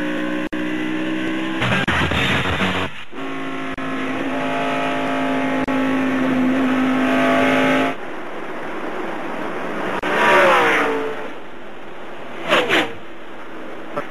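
NASCAR stock cars racing at the 2002 Ford 400 give a loud, steady engine drone with rising whine, then cars sweep past with a pitch drop before a couple of short bursts near the end.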